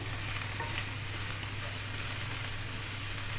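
Minced keema with fresh coriander is stirred in a hot pan, a quiet, continuous sizzle with soft scraping, without any voices.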